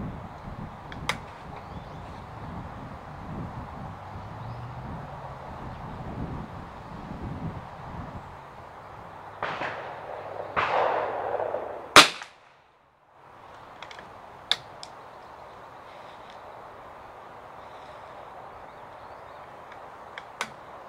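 One rifle shot, fired for a muzzle velocity test, cracks sharply and loudly midway through over breezy outdoor background noise, followed by a brief near-silence and a few faint clicks.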